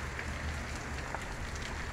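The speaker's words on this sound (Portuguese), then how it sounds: "É chuva grossa." Heavy rain falling in a town in northeastern Brazil, a dense, steady hiss of drops pattering on surfaces, continuous and moderately loud with no voices over it.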